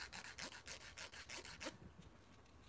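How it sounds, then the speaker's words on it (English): A cheap Dollar Tree nail file scraped in quick, rhythmic strokes, about seven close, faint rasping rubs, then a short quiet tail. "This is not the best nail file ever."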